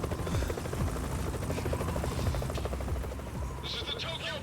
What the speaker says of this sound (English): They have to fight a helicopter now?